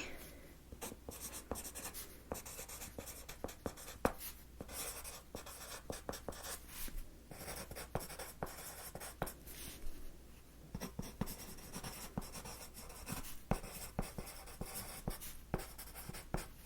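A pen writes on paper during an in-home makeup consultation, with close, quiet, continuous scratching and frequent small taps and strokes going on steadily for many seconds, with no talking.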